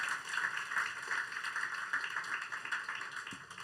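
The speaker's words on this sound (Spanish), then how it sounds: "great round of applause to Jesus Christ." A church congregation at a Sunday service claps in a round of applause: fairly faint, even, sustained patter of many hands for several seconds, with no voices over it.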